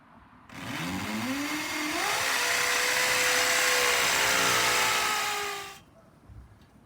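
A power driver drives screws to fix metal wall starters to an outdoor porch wall: one close, loud, continuous whine that climbs in pitch as the motor spins up, holds for about five seconds, then stops abruptly.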